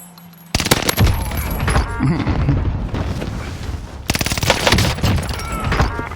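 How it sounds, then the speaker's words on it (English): Loud, close automatic fire from an MG42 machine gun in the Warzone Pacific video game, coming in dense rapid bursts after a short quiet start, pausing briefly and then hammering on again. "Under hostile fire."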